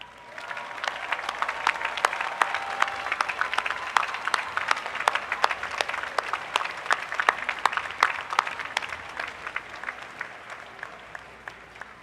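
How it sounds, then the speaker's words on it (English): A large graduation ceremony audience gives sustained applause for early graduates, a dense wash of claps with sharper individual hand claps standing out. It holds strong for about twelve seconds and then begins to taper toward the end. "give you a well-deserved round of applause"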